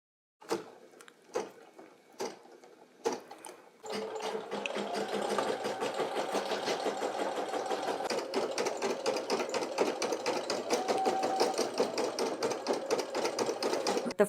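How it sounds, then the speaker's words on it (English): Brother PE800 embroidery machine stitching out a design in white thread: after a few scattered knocks, a steady, loud, rapid mechanical whirring hum runs continuously and close by. "The first thread color is done stitching out, so that's the white."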